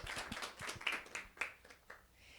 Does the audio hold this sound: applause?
yes